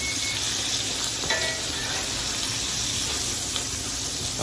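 Steaks frying in a hot pan, a dense continuous sizzle and crackle that stays steady and close throughout with no speech.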